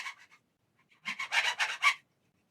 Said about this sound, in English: take a needle file to the corners and make sure there's no little burrs left over